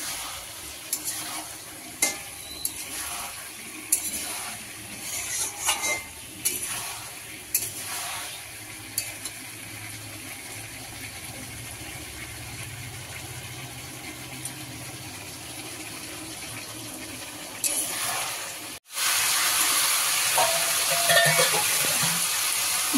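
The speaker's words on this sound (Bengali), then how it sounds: "একটু কষিয়ে নেবো, নিয়ে জল দিয়ে দেবো।" Spice paste for a tilapia fish curry stir-fried in a pan, with repeated scraping and stirring strokes over a steady low sizzle, then a sudden louder rush near the end as water is poured in.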